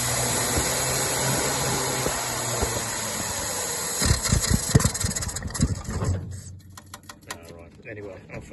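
Rootes 1725 engine idling as it warms up after a hard start, a steady mid-pitched rumble with clattery mechanical ticking that grows rougher and louder midway before easing off.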